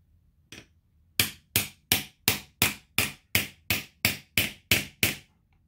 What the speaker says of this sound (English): I just wanna punch this out a little bit, not a lot, just a little bit.